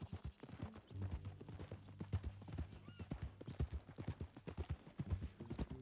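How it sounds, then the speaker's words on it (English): A horse's hooves clip-clop in a steady walking rhythm in Red Dead Redemption 2, moderately close and fairly quiet, with an occasional soft whinny and no talking. "That new horse?"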